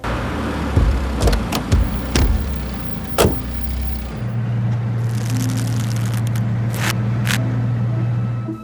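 A car with doors thumping several times, then an engine starts and hums steadily, with a few clicks and knocks over it.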